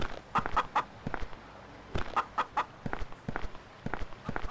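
Chickens cluck in short rhythmic bursts, repeated in groups, in the survival game Last Pirate: Survival, close and fairly quiet, with faint footstep-like taps underneath.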